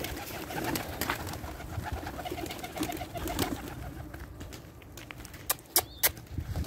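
Pigeons kept at a home in Saudi Arabia coo softly and repeatedly against a busy outdoor background, with a few sharp knocks near the end.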